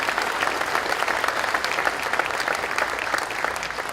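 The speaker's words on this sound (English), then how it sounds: "Please give our honorees a round of applause." Audience applause for honorees at a diversity gala, a dense, steady clapping from a large crowd that carries evenly from start to finish without pause.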